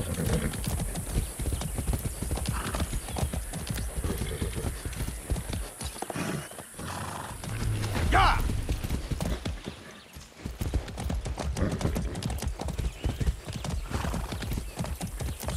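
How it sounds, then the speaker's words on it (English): A horse gallops in the open world of Far Cry 6, with rapid loud clip-clop hoofbeats in a steady driving rhythm, a whinny partway through and a brief slowdown before the gallop resumes. "That's a good horse."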